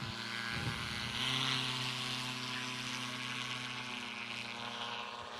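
The Rotax engine of a Chinook ultralight aircraft runs at a fly-in airshow, a steady propeller drone with a strong, even engine hum holding for several seconds at moderate distance.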